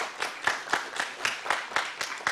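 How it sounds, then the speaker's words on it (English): Audience applause for a quizmaster at a medical quiz grand finale: steady rhythmic clapping from a crowd in a hall, with regular accented claps throughout, moderately loud and without speech. "a round of applause for you"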